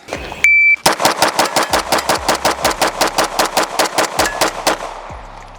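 A Staccato Tac Pro 4.25 pistol fires about twenty rounds in a fast, evenly spaced string, each shot loud and sharp with a short echo, preceded by a brief steady electronic beep of a shot timer.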